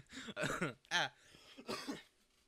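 Several quiet, close coughs come in short bursts, separated by brief pauses, with a little throaty clearing.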